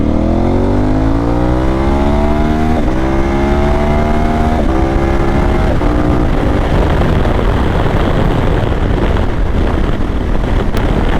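An adventure touring motorcycle accelerates hard onto the interstate, its engine rising in pitch through a quickshifted gear change, then settling into a loud, steady roar buried in heavy wind rush.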